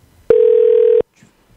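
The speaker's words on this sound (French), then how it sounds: "Ça sonne ou pas? Ça sonne." A single telephone ringback tone sounds during an outgoing call, one steady loud beep lasting under a second before falling silent, with a faint voice starting just afterward.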